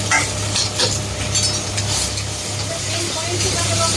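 Spices with ginger, garlic and green chilli fry loudly in a pan for egg curry, a dense continuous sizzle with stirring scrapes and occasional utensil clinks, close and steady throughout.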